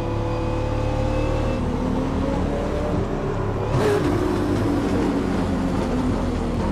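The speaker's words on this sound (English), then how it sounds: "We have a bunch of cars out here." Cars race on a circuit during a track day, a loud, continuous engine roar with sustained revving tones and a brief passing surge midway.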